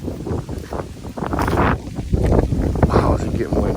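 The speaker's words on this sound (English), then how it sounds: "is it getting windy?" Gusty outdoor wind buffeting a microphone, a low rumbling roar that swells and eases, with a person speaking over it close by.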